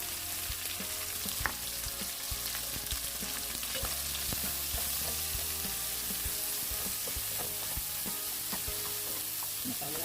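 Ingredients for a sampalok dish fry in hot oil, giving a constant close sizzle with scattered stirring clatters and pops throughout, no speech.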